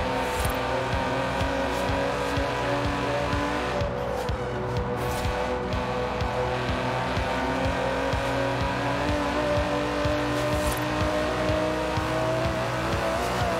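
An Aston Martin DB11 with a 5.2-litre twin-turbo V12 cruises in Forza Horizon 4, its engine humming steadily with a smooth, continuous drone and gentle shifts in pitch.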